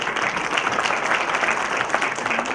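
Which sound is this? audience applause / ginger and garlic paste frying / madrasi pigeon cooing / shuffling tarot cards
audience applause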